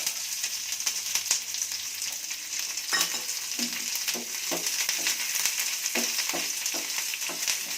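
Curry leaf sprigs and onion pieces frying in hot oil for a vegetable kurma, a steady close sizzle with occasional stirring scrapes and taps, no talking.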